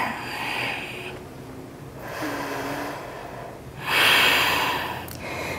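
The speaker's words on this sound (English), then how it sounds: "try to slow down your breath" Slow, deep breaths in a yoga tree pose, close and fairly soft, with a long exhale, a quiet pause and then a stronger, airy breath near the end.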